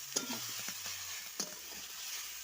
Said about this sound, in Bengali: একটু কষিয়ে নিচ্ছি।